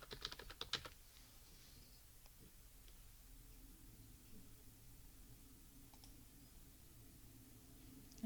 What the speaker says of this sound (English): we're going to type in Ventolin.